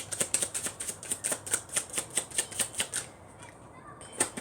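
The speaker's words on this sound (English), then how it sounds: "Also, I'm shuffling right here." Tarot cards being shuffled by hand, a run of quick, even riffling flicks repeating steadily up close, with a short pause before the shuffling starts again.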